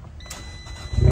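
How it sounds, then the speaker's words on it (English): A Fiat 500 Abarth engine catches at the very end after a quiet moment, a sudden loud rising roar close by with no talk. "Nice little start on the Abarth."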